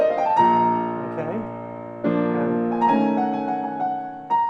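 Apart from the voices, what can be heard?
piano playing opening of Gershwin's Rhapsody in Blue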